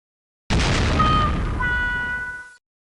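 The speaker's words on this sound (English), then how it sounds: "Consumer fireworks are very dangerous." Consumer fireworks go off in a single loud, sustained explosive burst lasting about two seconds, with crackling and ringing tones trailing through it and no talking.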